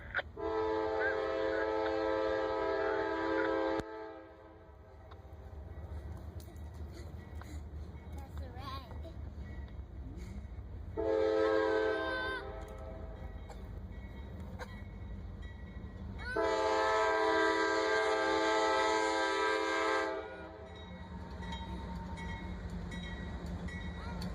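A Norfolk Southern freight train rolls past with a low rumble of cars while its horn sounds three long loud blasts with pauses between, and people talk quietly underneath.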